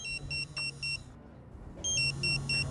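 A fire station dispatch alarm sounds in regular beeping pulses, a shrill repeated electronic tone over a low hum, pausing briefly before resuming the same steady pattern.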